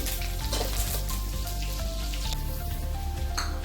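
Cumin seeds and chili frying in hot oil for crispy chivda, a dense, close crackle and sizzle like rain on a surface, continuous and fairly loud throughout, with no voices.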